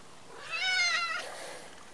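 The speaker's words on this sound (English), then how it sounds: "Cat, get out of the way." A single drawn-out meow from a cat, clear and fairly close, rising then trailing off in a quiet room.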